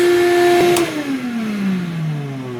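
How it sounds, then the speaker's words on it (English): A shop vac runs on inverter power and then shuts off, its loud steady motor whine winding down in pitch over a couple of seconds after a brief click. "that test was for the shop vac"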